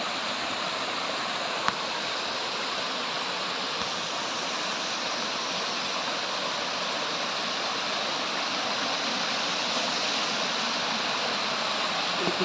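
A small waterfall pours steadily outdoors, making a continuous broadband rush of flowing water that stays even and fairly loud throughout with no voices.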